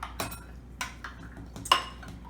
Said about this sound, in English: she's over there whisking